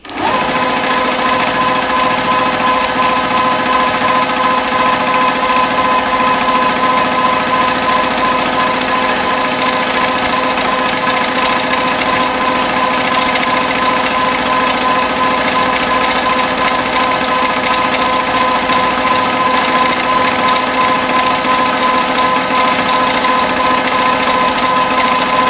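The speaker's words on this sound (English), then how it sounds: "You can also see that I'm stitching very haphazardly. I'm just trying to fill up that area with a lot of thread to get that color." Sewing machine running continuously and loudly up close during free-motion quilting, densely filling an area of a quilt with thread, a steady unbroken motor hum with no pauses.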